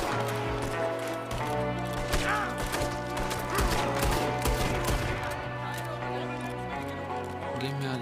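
Rapid pistol shots from a six-round revolver in Red Dead Redemption 2, cracking over a dense game soundscape with music and background noise, with talk running underneath.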